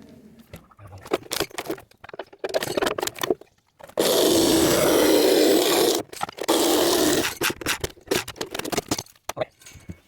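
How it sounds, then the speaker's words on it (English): A sawzall reciprocating saw cuts through concrete foundation forms pierced with rebar on a steep mountain site, two loud, harsh buzzing bursts close by, broken up by clattering handling noises. "This sawzall is doing the trick"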